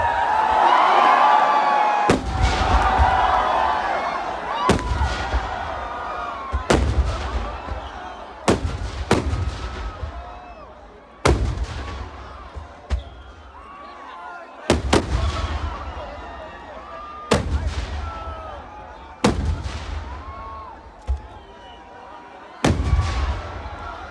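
Fireworks at the Kavassery Pooram festival in Palakkad, set off in the middle of a paddy field: a long series of loud, sharp booming blasts spaced a couple of seconds apart, each echoing and fading, with crowd noise beneath.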